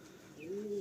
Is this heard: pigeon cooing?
yes